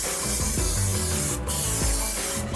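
Cooking spray hisses in steady, close bursts as a cheesecake pan gets greased for a New York style cheesecake, the broad hiss running nearly continuously with brief pauses.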